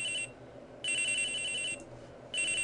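A telephone rings in the Phoenix Wright courtroom video game, two bursts of a bright electronic trill separated by short pauses, clear and alone.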